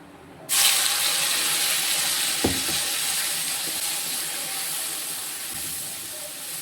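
A pan of ground masala paste, poured over popped mustard seeds, bubbling and sizzling loudly after a sudden start, with a steady hissing spatter and a few soft clunks.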